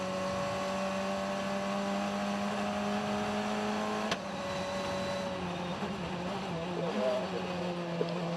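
A FIA Formula Regional World Cup car accelerating up San Francisco Hill during qualifying at the Macau Grand Prix, a steady high engine whine rising under commentary, with a brief sharp click midway.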